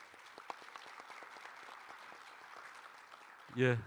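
A forum audience gives a soft, steady round of applause welcoming an IOC member, faint and distant, ending as a voice speaks up loudly over it.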